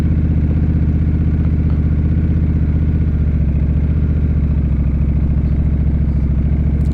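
Honda Rebel 1100 DCT motorcycle engine holding at a steady, locked throttle with the rear brake applied, a continuous low, even rumble with a throbbing pulse that stays constant and close throughout, no talking.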